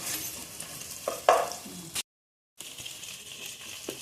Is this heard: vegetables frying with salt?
yes